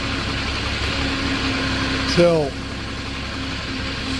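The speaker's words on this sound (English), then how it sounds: "There's your engine coming to life." A 2015 Moffett M8 55.3 forklift engine fires up about midway, a brief rising start with a whining sweep, then settles into a steady mid-pitched idle, with someone talking over it.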